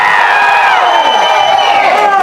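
A large crowd at a film star's speech in Madurai cheers, whoops and shouts in a loud, sustained roar, with high excited voices rising and falling together.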